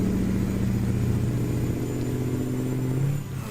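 Mack Superliner truck engine from a modded trucking video game, a steady loud diesel drone with layered harmonic rumble that holds evenly and eases off slightly near the end, no talking.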